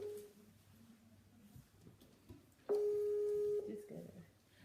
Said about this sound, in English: And it's ringing on Skype, it's not picking too.